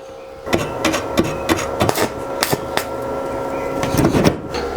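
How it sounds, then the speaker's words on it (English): Stick welding tacks the corners of a steel window bar frame, a steady crackling arc broken by sharp taps and knocks at irregular intervals, close and fairly loud with no talking. "I'm going to start by tacking all 4 corners, and then I will try to run weld uphill in the corners"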